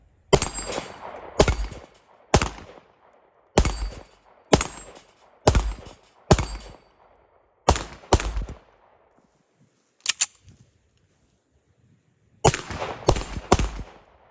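Loud, close pistol shots from a Tisas Duty full-size 9mm 1911, fired outdoors at about 7 yards in a string of single sharp cracks with short pauses, a longer gap, then a quick closing cluster.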